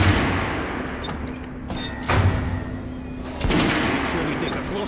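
Gunshots ring out in Metro: Last Light Redux, a few sharp loud reports spaced apart over a busy background of metallic clanks and ambient noise, with voices in the mix.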